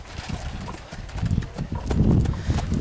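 A young dun horse's hooves clip-clop in an uneven rhythm over a rough, noisy outdoor background, growing louder toward the end.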